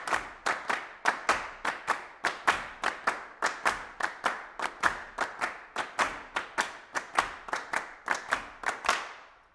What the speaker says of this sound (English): Let's clap it out.